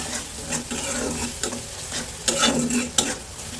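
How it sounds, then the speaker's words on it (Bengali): Onions and spices frying with turmeric in a pan for a banana-flower fry, a continuous close sizzle with repeated scraping strokes of a spatula, loudest in the second half. "এবার ভালো করে নেড়ে চেড়ে ভাজতে থাকবে যতক্ষণ না পুরোপুরি ভাজা হয়ে যায়"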